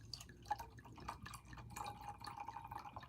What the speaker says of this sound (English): Yeah, I fill my glass up.